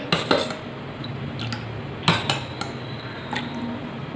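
Steel dishes and serving spoons clink and scrape as dal, rice and fried potatoes are served onto plates at home, a few sharp metallic knocks between quieter scraping.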